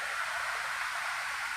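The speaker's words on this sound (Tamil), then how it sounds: "தண்ணி கொட்ட சத்தம் அழகாக இருக்குங்க கேட்குறதுக்கு" Steady broadband rushing of water splashing down a small forest waterfall fed by overflow from Sholayar Dam, close and continuous, with no voices.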